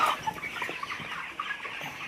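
Chickens on a farm cluck and cackle together in a dense, steady chorus that runs through the whole stretch at moderate loudness, with no talking.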